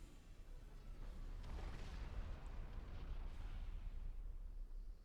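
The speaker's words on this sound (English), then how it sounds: "there's artillery" Distant artillery fire in the video game Supreme Commander 2 makes a low, rumbling wash of muffled booms that swell and fade, heard fairly faintly.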